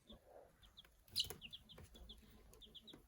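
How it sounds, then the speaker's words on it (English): A chicken's harsh, bark-like calls sound from outside, faint and distant, in a short string of clucks and squawks against quiet background noise. "Ooh, somebody barked outside. Did you know chickens can bark?"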